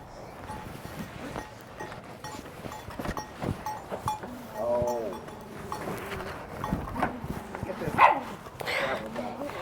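A small dog barks in short yips and whines on a busy farm, mixed with other animal calls and handling noise, while people talk over it throughout.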